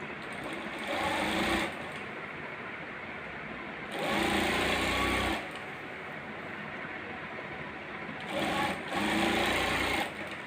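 Sewing machine stitching the folded hem of a nighty, three distinct bursts of rapid whirring stitches separated by quieter pauses, close and fairly soft.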